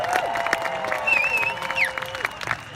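An audience in a Los Angeles screening venue applauds and cheers for a DJ, a moderate wash of clapping with a few whoops and scattered voices that thins toward the end.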